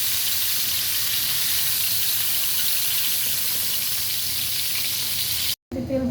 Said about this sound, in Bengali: মুরগির মাংস হালকা করে ভেজে নেব, যেহেতু এটা বিরিয়ানি তাই হালকা করে ভাজতে হবে।